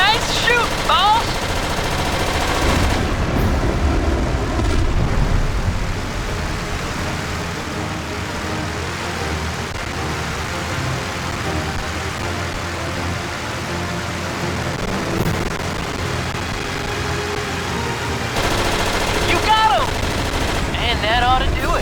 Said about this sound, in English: You're gonna need to be able to shoot fast and accurate up here.